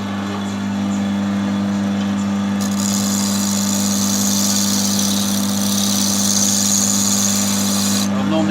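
A wood lathe turning pine runs at high speed with a loud, steady motor hum and a strong low drone, joined midway by a bright, sustained higher whine that ends abruptly near the close.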